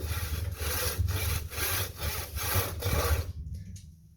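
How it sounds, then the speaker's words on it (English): Hand saw cutting into a rubber tennis ball, a steady back-and-forth rasp with about six even strokes, close and clear, ending in near silence. "you're going to hear the saw eating away at the rubber very distinctly"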